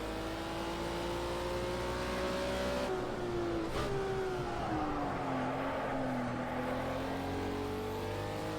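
A race car engine in the video game Project Cars 2 drones loud and steady, its pitch rising, dipping through a gear change, then climbing and sagging again as the car slides through corners, with no talk over it.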